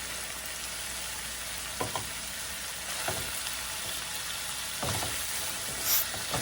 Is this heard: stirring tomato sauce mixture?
yes